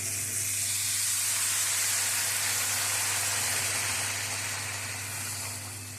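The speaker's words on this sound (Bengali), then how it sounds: "এখন পরিমাণ মতো গরম জল দিয়ে দেবো।" Hot water poured into sautéed vegetables for a fish curry raises a steady, soft hiss and sizzle that fades slightly toward the end, over a low hum, with no talking.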